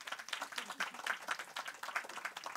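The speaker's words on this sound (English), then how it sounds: "the people are applauding" An audience at a feminist climate academy session applauds, heard as faint, distant, scattered clapping that stays continuous for a few seconds, with no clear talking.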